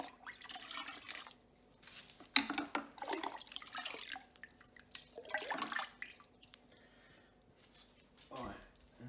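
Stirring yeast into cherry wine must, with soft liquid swishes, drips and light clinks against the container, coming in uneven bursts at close range alongside a voice speaking.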